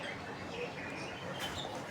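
Mukhi pigeons in a coop give faint, soft coos and chirps against a steady background hiss.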